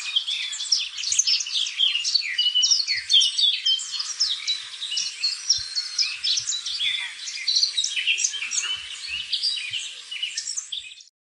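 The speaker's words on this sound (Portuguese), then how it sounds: "A gente percebeu que está algum passarinho cantando, né?" Continuous bird song of rapid, high chirps and trills, close and fairly loud, repeating without pause over a quiet background, used as a sound example.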